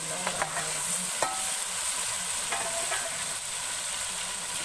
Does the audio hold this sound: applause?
no